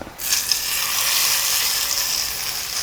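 Curry leaves dropped into hot sesame oil for onion chutney crackle into a sudden loud sizzle that holds steady and bright, with faint stirring scrapes underneath.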